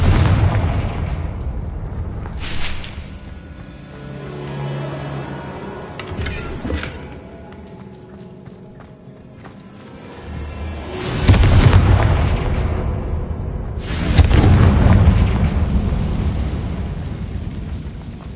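Confringo fire spell blasts in Hogwarts Legacy, heavy rumbling booms that swell and fade, with two big explosions rolling out among lighter crackling impacts.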